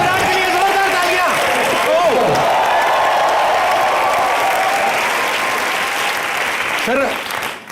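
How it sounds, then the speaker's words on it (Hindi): A studio audience on The Great Kapil Sharma Show claps loudly for cricketer Virat Kohli, a dense, sustained burst of applause mixed with voices and cheers, tapering off at the end. "विराट के लिए जोरदार तालियां।"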